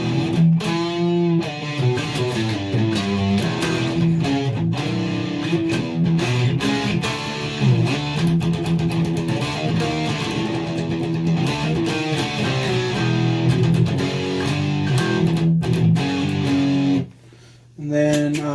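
1991 Squier Strat electric guitar played on the bridge pickup, a bright, lightly driven riff of steady chords and notes filling the clip at close range, stopping briefly near the end.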